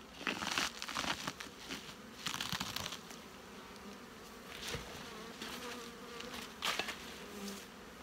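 Honeybees in a commercial bee yard, a dense, soft buzzing swarm with individual bees droning close past in repeated swells, mixed with faint rustling and crinkling.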